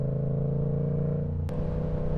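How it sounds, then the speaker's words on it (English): A Yamaha R7 sport motorcycle downshifts on the highway. Its close, steady engine drone shifts pitch abruptly midway as a gear changes, under constant wind rush. "And the downshifts on this bike, they sound so good."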